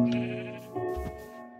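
A single sheep bleats in the video game Minecraft, one wavering cry lasting about a second, clear and alone with no talk.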